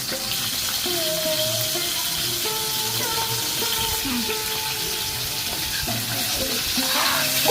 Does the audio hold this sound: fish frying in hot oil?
yes